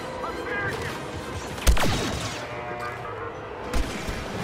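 Grenade blasts in the Star Wars Battlefront 2 campaign, heard as two sharp booming bursts, one midway and a smaller one near the end, set against continuous battle noise and scattered gunfire.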